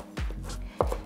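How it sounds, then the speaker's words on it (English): A knife chops fresh cilantro on a cutting board while guacamole is made, two crisp close chops about half a second apart, each landing with a sharp thud. "So first I'm going to cut up about 2 tablespoons of cilantro."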